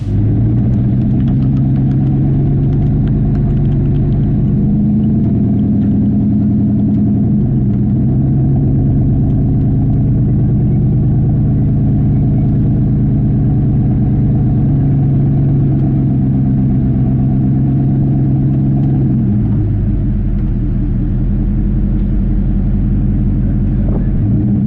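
A car crawls slowly on a tiny bit of gas, its engine giving a steady, loud, low rumbling drone near idle with slight dips and swells in pitch, close by and unbroken.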